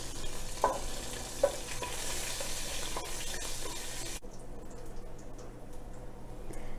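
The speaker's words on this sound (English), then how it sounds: "Then stir it nicely." Fish curry stirred in a pan with chopped green chili, soft sizzling and a couple of spoon taps, the frying sound dropping off sharply partway through.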